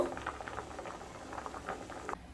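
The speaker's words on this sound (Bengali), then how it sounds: "প্রথমে ডিমগুলোকে সেদ্ধ করে নেব।" Eggs boil in a pot of water, a faint, continuous bubbling and light patter with no talking.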